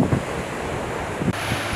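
Ocean surf rolls onto a beach at a surf spot, a steady roar of breaking waves blended with strong wind buffeting the microphone, with no voices.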